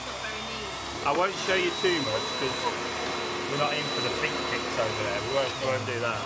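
A vacuum cleaner runs with a steady whine and airflow hum, holding level through the clip while a person talks over it nearby.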